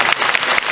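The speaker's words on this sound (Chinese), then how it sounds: "掌声鼓励。" A brief burst of dense audience applause at a live concert in a large memorial hall, loud and continuous clapping from many hands with no voice over it.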